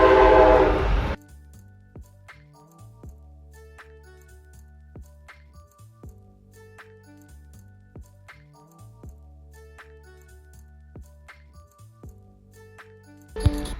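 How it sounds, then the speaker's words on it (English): A train horn drones in long, sustained tones in the distance behind an indoor podcast recording, with faint clinks and rail noise, after a moment of speech at the start and a sharp sound at the end. "This damn train, I didn't want train all in my background."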